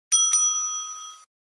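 A timekeeper's bell at an English debate competition is rung once, a bright metallic ding with a second quick strike just after it, ringing clearly and fading over about a second before falling silent.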